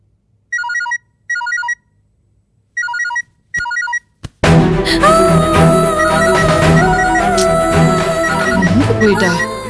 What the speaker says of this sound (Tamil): அவ போன் அடிச்சாலும் எடுக்க மாட்டா